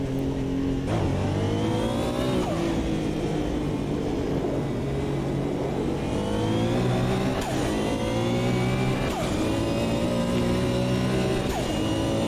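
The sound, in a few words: Porsche race car engine in Automobilista 2 video game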